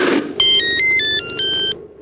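An Ericsson A2618 mobile phone ringtone in a TV advert plays loud and close: a bright electronic melody of stepped beeping notes lasting just over a second, alone without talk.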